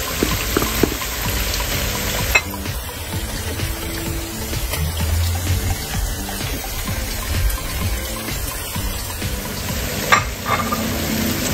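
Potatoes and onion fry in oil for a Spanish tortilla, a steady crackling sizzle with occasional stirring scrapes and sharp pops, close and continuous.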